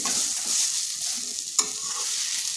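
Radish pieces sizzle and hiss as they are stir-fried in a pan for a home-style vegetarian dish, with one sharp clack of the utensil partway through.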